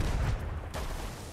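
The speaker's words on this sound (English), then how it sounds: "I'm up on the tower and I'm shooting at them with cannons" Cannons fired from a tower in a pirate ship video game, a dense, loud barrage of booming blasts that merges into a continuous rumble with no pauses.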